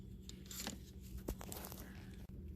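Wires in a 2011 BMW 135i N55 ignition harness are cut, giving close, crackly tearing and snipping noises with a couple of sharp clicks, no voices.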